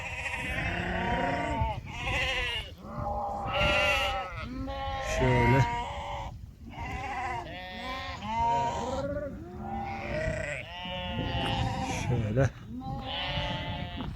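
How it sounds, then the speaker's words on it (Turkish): A flock of sheep slowly coming out bleat continuously and overlapping, a busy chorus of wavering calls from several animals, some close and some farther off, with a sheepdog keeping watch on a hill. "koyunlar da yavaş yavaş çıkıyor"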